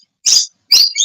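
Birds chirp loudly and close by outdoors, with two sharp bursts of high, shrill calls separated by a short pause, and no talking.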